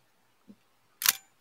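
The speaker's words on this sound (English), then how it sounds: "You should let our listeners hear the shutter because the shutter on the FE rips." A Nikon FE film SLR shutter fires once with a sharp, close mechanical snap and a brief whir, preceded by a faint soft click and followed by the start of another click.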